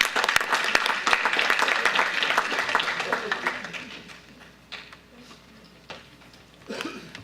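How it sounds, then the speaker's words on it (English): Audience at a school board meeting applauds high school leaders, a burst of clapping that is fairly close and dense at first, then fades into room noise, with voices and movement following. "let's give a round of applause for the leaders at Bel Air High School"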